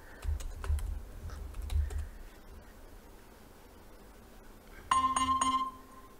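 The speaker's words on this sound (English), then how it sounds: "So we can just go ahead and write pip install flask" Typing on a computer keyboard to enter a pip install command, a brief run of quiet, close key clicks followed by a short electronic chime.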